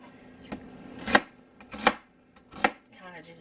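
A knife chops through onions on a cutting board in a home kitchen, three or four distinct thuds spaced about a second apart, close and clear with no talking.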